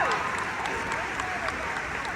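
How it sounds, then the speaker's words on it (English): A Dallas FanExpo crowd applauds cosplayers, sustained clapping and cheering from a large indoor audience, even and continuous with voices mixed into the din. "Give them a round of applause."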